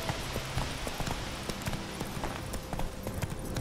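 Horse hooves clip-clopping during riding in The Witcher 3, a quiet, steady run of soft irregular hoof beats over faint background sound.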